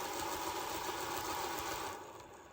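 A 1953 Tri-Ang R3X model goods train in poor condition running on a rolling road, giving a steady faint mechanical whir and hum that fades slightly toward the end.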